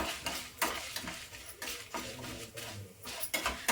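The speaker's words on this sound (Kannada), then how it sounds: "ಈಗ ನೀಟಾಗಿ ಮಿಕ್ಸ್ ಮಾಡ್ಕೊಳ್ಳೋಣ ಸ್ವಲ್ಪ ಲೋ ಫ್ಲೇಮ್ ಇಟ್ಕೊಂಡು ನೀಟಾಗಿ ಫ್ರೈ ಮಾಡ್ಕೊಳ್ಳಿ" A spatula stirs bisi bele bath masala frying in a pan over low flame, giving soft rhythmic scraping strokes roughly every half second over a quiet background sizzle.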